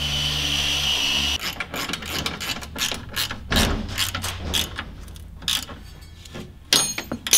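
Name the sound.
ratchet wrench tightening bolts on VW T3 engine mount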